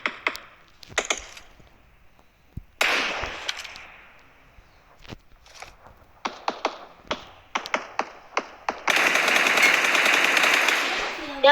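Gunfire in a shooter video game, sharp single shots and rapid bursts scattered throughout, ending in a loud sustained stretch of noisy fire, close and crisp.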